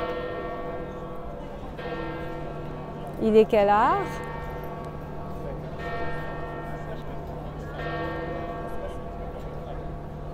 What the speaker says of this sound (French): on entend les cloches sonner